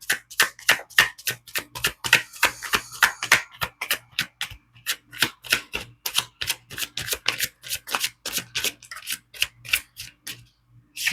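Tarot cards being shuffled and laid out on a surface, a steady series of crisp snapping and slapping card sounds, close and distinct, with no talking.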